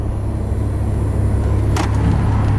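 Inside a Chevrolet Camaro cruising at around 30 to 35 miles per hour, a loud steady engine and road drone fills the cabin with a constant low hum, no voices over it.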